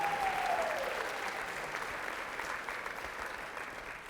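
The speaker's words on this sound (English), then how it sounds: "can y'all give her a round of applause for organizing this?" Steady applause from a crowd at a graduation recognition church service in Akron, a continuous wash of clapping that holds level and fades slightly toward the end.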